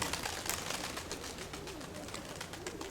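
Pigeons coo softly at a distance amid a busy wash of outdoor birdsong and chirping, with no talk over it; one of them may be a reddish stray among a keeper's own flock.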